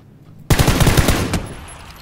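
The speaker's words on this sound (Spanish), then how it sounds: "Me están disparando desde otro lado" Loud, close burst of automatic gunfire in PUBG, a rapid string of roughly eight sharp shots that starts abruptly after a short quiet lead-in, then fades into a reverberant tail.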